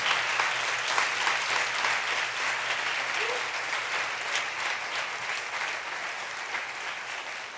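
A church congregation applauds in a long, steady burst of many hands clapping together. The sound stays fairly even throughout and fades only slightly near the end.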